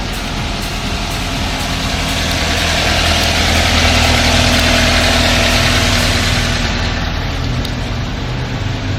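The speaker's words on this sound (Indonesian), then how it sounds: "kendaraan terlebih dahulu kita panaskan" A vehicle engine idles steadily as it warms up before an exhaust gas emissions test, giving a continuous, fairly loud low rumble with no talk over it.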